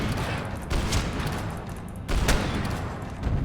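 Gunfire from the video game Max Payne 3, a dense continuous barrage of loud shots with two sharper bursts standing out, heard alone without talk.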